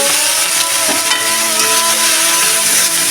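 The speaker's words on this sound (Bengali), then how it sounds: "এখন আমি এই তেলের মধ্যে একটু জিরে আর শুকনো লঙ্কা শুকনো লঙ্কা দিলাম" Cumin seeds and dried red chilies sizzle in hot oil for a Bengali katla fish curry, a steady, close, continuous hiss and crackle with no talking.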